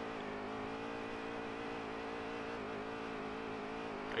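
Steady engine drone of a race car in a racing video game, a continuous harmonic whine held at a constant level throughout with no pass-by or change in pitch, no voices present.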